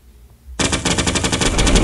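Rapid sniper-mode gunfire in the game Solar Smash, starting abruptly after a quiet moment and continuing as a fast, loud, evenly spaced stream of shots.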